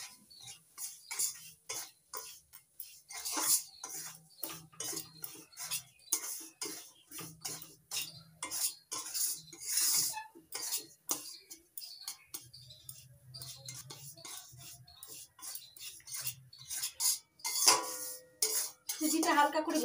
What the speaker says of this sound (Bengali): এবার দিয়ে দিচ্ছি একবার সুজিটা হালকা করে একটু ভেজে নেব।